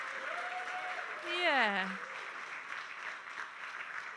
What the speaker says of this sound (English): So another round of applause for the speakers